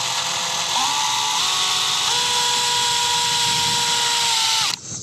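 Power drill drives a supplied screw into a mount for a Cinoton 100W LED barn light, a loud steady whine that holds and shifts pitch as it bites, then stops abruptly near the end.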